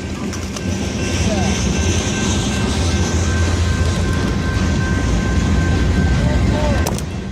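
A freight train led by a CSX SD40-2 locomotive rumbles steadily past at Glenns Ferry, a continuous loud roar of engine and rolling wagons with a brief horn-like tone near the end.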